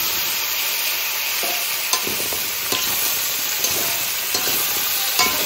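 Pumpkin frying in oil with a cumin and bay leaf tempering, alongside ground ginger, cumin and green chilli paste, giving a loud, constant hiss and sizzle broken by several brief spoon scrapes, close and without talk.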